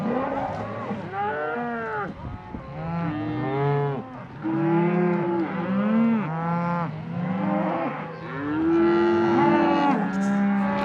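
Cattle moo repeatedly in a vast open pasture of about 100,000 acres, with several loud, drawn-out calls overlapping close by and no talking.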